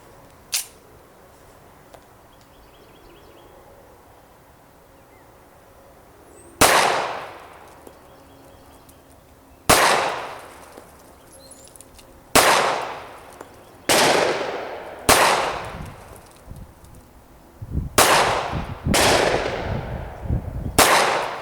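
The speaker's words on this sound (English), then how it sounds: "I'm going to load it up and shoot it another time just to see if I can get a little better group out of it." A Colt Series 70 Combat Government pistol is fired outdoors while shooting a group, with loud, close gunshots that ring out and decay, spaced a few seconds apart before speeding into a faster string near the end.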